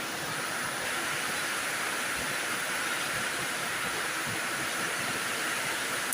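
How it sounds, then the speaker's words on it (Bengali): Torrential rain falls in a constant, broad wash of noise, close and even throughout, without any talking. "কি জোরে বৃষ্টি"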